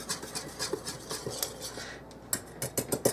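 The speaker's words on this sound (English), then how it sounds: "So I'm just going to sift that together" Flour, salt and baking powder whisked together in a bowl, with rhythmic scraping and light tapping strokes, close up and with no talking.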